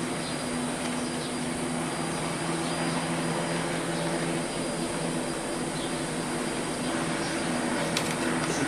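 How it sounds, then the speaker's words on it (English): Steady, continuous drone of a plane's engines idling and building toward takeoff, a broad hum with low tonal lines holding at near-constant loudness throughout, no voices. "I think they're going for another takeoff."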